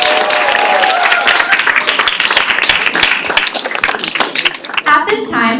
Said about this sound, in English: let's give a quick round of applause for Eddie Montana and Professor Christina Moorhead on their spectacular performance today.